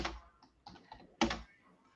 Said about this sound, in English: Hitting the keys a little hard.